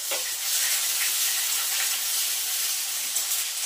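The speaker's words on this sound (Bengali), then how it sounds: "পেঁয়াজটা এখন একটু ভাজা ভাজা করে নিয়ে" Chopped onion frying in a hot pan, a steady dense sizzle with faint crackles running evenly throughout, close and continuous with no voices.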